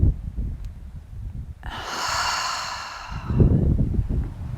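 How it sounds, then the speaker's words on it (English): A long, slow exhale during an outdoor slow-flow yoga practice in Maui, a soft breathy rush lasting under two seconds, close and fairly loud, with low background rumble before and after. "and then exhale."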